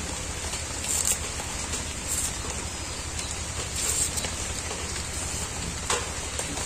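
Steady rain falls in a village, an even wash of patter with a few louder drops breaking through now and then and nobody talking.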